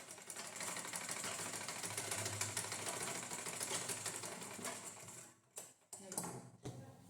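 A sewing machine runs steadily while stitching the folded edge of a lined blouse, its dense mechanical whir continuous and close for about five seconds before stopping and restarting in short bursts.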